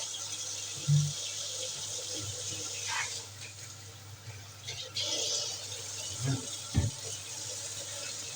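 Tap water runs into a sink at home, rinsing with hot water, a soft steady flow broken by a few clinks and knocks of items being handled, faint and close.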